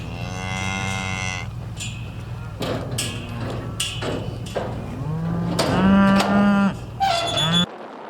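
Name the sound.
cattle mooing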